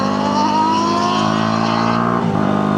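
A Kawasaki ZX6R sport bike fitted with a Black Widow exhaust roars loudly and steadily nearby, its engine note rising smoothly before dipping briefly near the end, with no talking.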